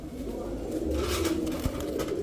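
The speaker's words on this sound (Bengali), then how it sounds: "নরমাদি দুইটাই কিন্তু সাপ চোখের কবুতর" Domestic pigeons, a male and female pair, coo softly in low, throaty murmurs over a steady background hum, with no clear talk.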